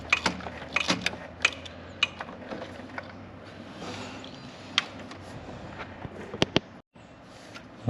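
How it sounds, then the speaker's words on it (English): A ratchet with an extension works the valve cover bolts loose on a Dodge 5.2L or 5.9L engine, giving close, irregular clicks and sharp metallic knocks, with a brief pause near the end. "just get a wrench, a ratchet, and extension to get them out"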